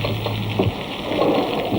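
A rain squall at sea patters down aboard a Chinese junk, a fairly loud wash of drops mixed with water and wind noise. There are a few brief bumps and knocks, and no speech.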